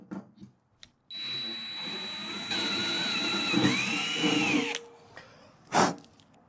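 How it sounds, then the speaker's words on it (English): A power drill with a 5/16 inch bit whirs at close range for a few seconds, its pitch shifting as it bites into material while fitting a Kawasaki KLR650 pannier, then stops, followed by brief handling clatter. "And step up to a 5/16 inch drill bit."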